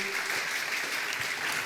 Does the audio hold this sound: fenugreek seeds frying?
no